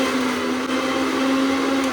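A mixer grinder runs continuously while grinding cleaned fenugreek into a paste, giving a steady, loud motor whine with a constant hum and no pauses.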